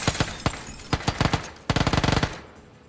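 Gunfire in the video game PlayerUnknown's Battlegrounds: sharp single shots at the start, then a rapid automatic burst of about a dozen cracks, loud and close with a short fading tail.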